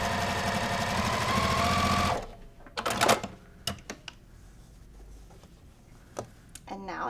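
A sewing machine stitches a Halloween pumpkin quilt block with a steady, close whirring run that stops after about two seconds, followed by scattered fabric handling clicks and rustles.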